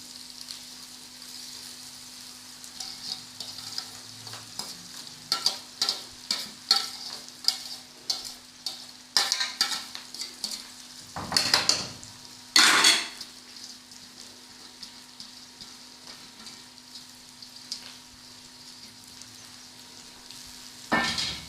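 Rice for Kabuli pulao frying in a pan over a lowered flame, a soft steady sizzle under repeated scraping and clinking stirs from a spoon against the pot, with a couple of louder clattering bursts.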